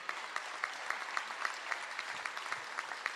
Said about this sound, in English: That applause goes for my team out in the field, please.